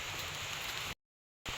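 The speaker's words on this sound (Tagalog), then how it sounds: "Napatak na po ang ulan." Steady broadband hiss of rain falling in a coconut grove while ferns are gathered, loud and close, cutting abruptly to silence for half a second before resuming.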